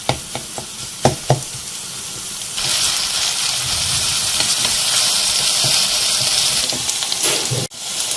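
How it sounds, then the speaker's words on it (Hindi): Chopped onions fry in a pan for a dhaba-style egg masala, opening with a few stirring clatters before a steady, loud sizzle and hiss takes over, broken briefly by another scrape near the end. "हमें प्याज को यहाँ इतना फ्राई करना है कि इसका कलर थोड़ा चेंज हो जाए"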